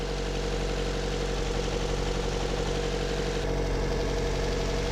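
A 2014 Chevy Volt's Ecotec engine runs steadily up close with an uneven, stumbling idle from a secondary ignition misfire, a continuous low throb with no talk.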